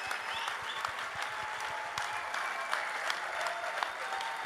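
Steady applause from an audience greeting a politician, dense even clapping with sharper individual claps standing out, continuous and fairly close throughout.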